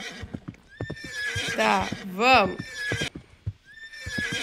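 A runaway horse in a Roblox escape-the-castle obby game neighs in a loud, rising whinny midway, with clip-clop hooves throughout while people talk excitedly over it.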